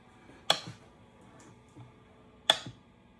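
Two sharp, faint snapping clicks about two seconds apart from a hit-and-miss engine's cam gear, over a low mechanical hum, close by.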